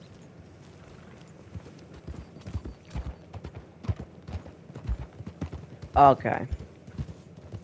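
Horse hooves clip-clop at a steady walking rhythm in Red Dead Redemption 2, close and moderately loud, with a horse's snort or whinny rising near the end and a brief spoken word over it.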